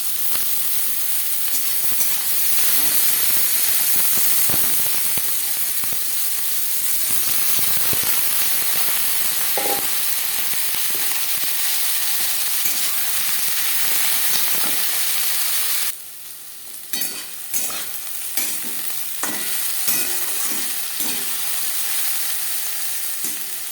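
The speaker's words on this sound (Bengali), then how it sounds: "তিন চামচ রিফাইন্ড অয়েল গরম করে নিয়েছি এবার দিয়ে দেবো আলু" Potatoes frying in about three spoons of hot refined oil in a pressure cooker, a loud continuous sizzle that briefly dips and then crackles with bursts of stirring and spattering.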